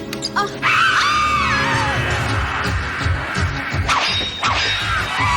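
A high, wavering scream rings out in a Felix the Cat cartoon, mixed with cartoon whacks, crashes and swishes that hit loudly and repeatedly over a busy soundtrack.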